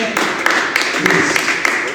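A church congregation gives a clap offering, a dense, steady wash of many hands applauding together with voices mixed in throughout.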